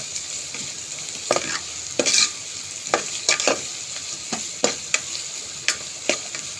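Onions fry and sizzle in a pan as the base for a fish curry, with a steady hiss broken by repeated sharp scraping strokes as they are stirred until golden. Close and alone, with no voices.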